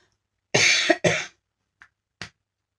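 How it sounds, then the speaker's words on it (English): Two harsh coughs up close in quick succession, followed by a couple of faint short throat sounds. "Sorry, coughing."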